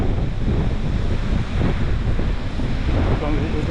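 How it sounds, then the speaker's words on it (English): Wind at the seaside roars steadily and loudly into the microphone, with a continuous rushing wash like surf underneath and no pauses. "Now the wind is getting up."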